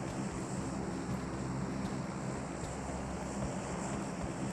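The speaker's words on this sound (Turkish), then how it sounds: "Uçak sesi bir an önce git." A steady, low rumbling drone of an airplane flying overhead in the PUBG Mobile game, a constant engine hum with no talk.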